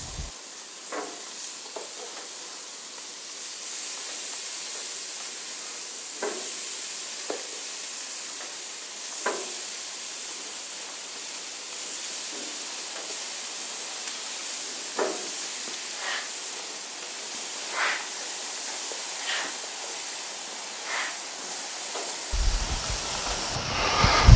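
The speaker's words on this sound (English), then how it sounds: "have a good hot grill. We're going to try to get some of these patties on here and get them cooking" Burger patties for mushroom Swiss bacon burgers searing on a hot grill, a steady bright hiss and sizzle with occasional crackling pops, no talking, cutting off abruptly at the end.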